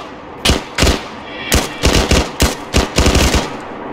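Machine gun fire aimed at mutants in the video game S.T.A.L.K.E.R., loud close bursts of several rapid shots in uneven clusters with short pauses between them.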